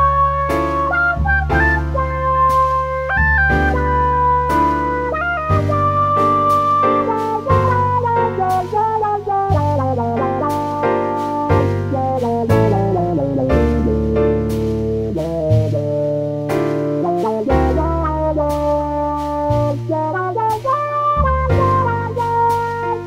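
An instrumental solo over chord changes uses transition harmony, with a melodic line weaving over sustained chords and a low bass line for over twenty seconds, steady and full, with no talking.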